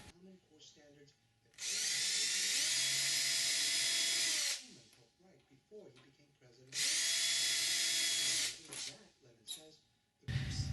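Power drill boring number 40 pilot holes, spaced one inch apart, along an aluminium aircraft tail part during a Sonex tail kit build; two loud sustained whining bursts of about three seconds each, with quieter workshop handling noise between.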